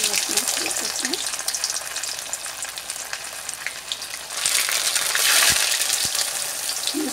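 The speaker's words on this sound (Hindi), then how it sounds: "अब इसको आस्ते हम अपना फ्राई करते हैं।" Spinach and potato cutlets shallow-fry in oil over medium-low heat, a bright, close crackling sizzle that swells louder midway, with a couple of sharp taps from a utensil.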